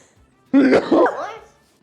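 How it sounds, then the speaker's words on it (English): A single sudden sneeze bursts out near the mic in a home kitchen while baking lava cakes, loud and explosive with a short trailing breathy tail. "I gotta sneeze."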